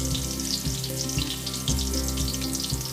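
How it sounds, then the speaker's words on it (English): Stuffed karela, potato and brinjal are dropped into hot oil and fry with a steady, full sizzle, with soft bubbling bursts recurring at a regular pace throughout. "Once the oil is heated, just drop the vegetables slowly in the oil."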